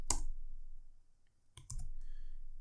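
A few sharp keystrokes on a computer keyboard while CSS is typed into a code editor, a quick burst at the start and another short cluster later, close and fairly quiet with a faint background hiss.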